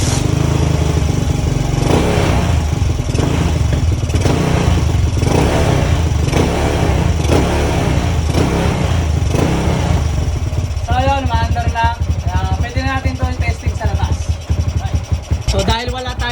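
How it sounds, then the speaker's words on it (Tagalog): A motorcycle engine, an old neglected bike restored and fitted with a mushroom air filter, runs with a loud steady rough chug, then revs up and down near the end while a voice talks over it. "Kaya testingin na natin itong motor para malaman nyo talaga na okay na to."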